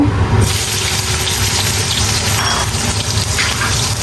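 Spice paste hits hot oil in a pan with a sudden loud sizzle that settles into a steady, close hiss and crackle.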